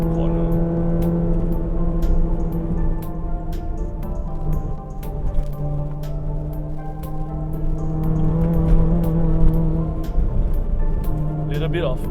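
Modified Suzuki Swift Sport ZC31S engine pulling through a corner in third gear, a steady droning note heard from inside the car with rhythmic clicks and ticks, while someone talks over it.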